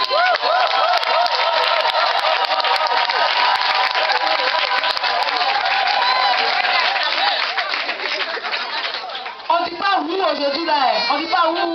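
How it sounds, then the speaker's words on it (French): A crowd of mothers at a social centre Christmas gathering applauds and cheers loudly and steadily for the centre's director, with chanting voices rising near the end. "Vous allez l'ovationner. Vous allez faire des acclamations."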